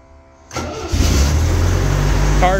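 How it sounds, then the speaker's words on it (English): A 1975 MGB engine cranks briefly, then catches and settles into a loud, steady idle close by, with no talking over it. "Car starts."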